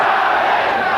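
A boxing crowd roars steadily and loudly during the first round of the 1987 Julio Cesar Chavez versus Edwin Rosario fight, a dense continuous wash of cheering voices.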